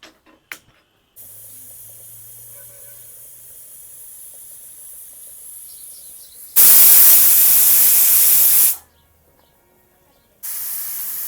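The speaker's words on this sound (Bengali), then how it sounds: "এখন প্রেসার কুকারে কয়েকটা সিটি দিয়ে নেব" A pressure cooker whistle lets off a loud burst of hissing steam for about two seconds while cooking gudok with dried fish and lot, set against quieter kitchen background noise before and after.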